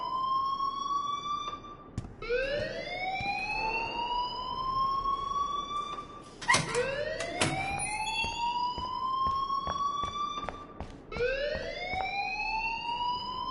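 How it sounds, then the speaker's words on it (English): A PS4 video game alarm wails in repeated rising sweeps, each climbing and holding for several seconds before restarting. The siren is loud and close, with a few sharp clicks between cycles and no speech. "please turn off that alarm since that's your job"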